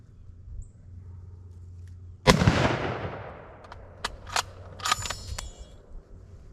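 One sharp, loud rifle shot from a 6.5x52 Carcano 91 TS, fired outdoors, rings out with a decaying echo, followed by a few smaller metallic clicks and knocks.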